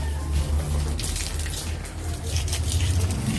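Water pours steadily while plants are watered, a continuous gushing splash at close range with no pauses and no voices.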